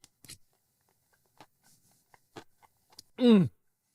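Crisp crunching of a takuan pickled radish hosomaki sushi roll being chewed with rice and nori, a few sharp bites close up, followed by a short hummed vocal sound of enjoyment.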